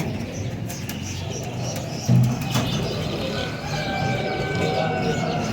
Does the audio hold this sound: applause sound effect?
no